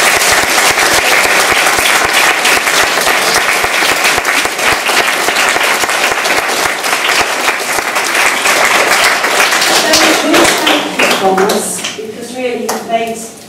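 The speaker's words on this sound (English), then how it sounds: "So I just want to give them a really warm round of applause" A warm round of applause rises from an audience at a science garden event, dense and loud throughout before thinning out, while a voice speaks over the final seconds.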